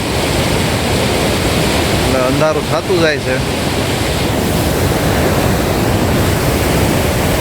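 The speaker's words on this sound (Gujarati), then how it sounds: "ચારે બાજુ લીલોતરી હરિયાળીના પાણીનો ઝરણા મોટા મોટા ઘેલા નદીનું પાણી" A waterfall and streams flow through green hills in Kerala, making a steady, dense rushing hiss. A person speaks briefly over the water partway through.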